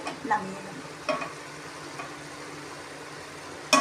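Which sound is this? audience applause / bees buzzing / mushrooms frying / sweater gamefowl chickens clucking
mushrooms frying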